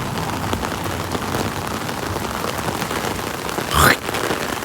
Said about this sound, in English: Oh, come on, rain.